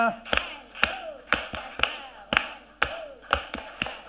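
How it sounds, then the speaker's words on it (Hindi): At an International Yoga Day program, a group claps in sharp, crisp patterns of three, repeated several times in a steady rhythm, with voices shouting and calling along between the claps. "3 ताली का मान दे"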